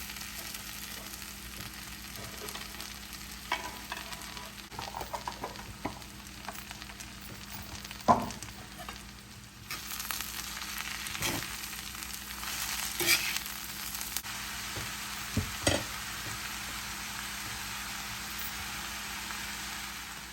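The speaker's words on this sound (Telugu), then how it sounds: "తర్వాత కట్ చేసి పెట్టుకున్న ఆకుకూర కూడా వేసేసుకుంటున్నాం." Chopped spinach frying in a pan for Rajasthani palak besan sukha, a steady low sizzle with occasional scrapes and clinks of stirring, moderately close and fairly quiet, with no talk.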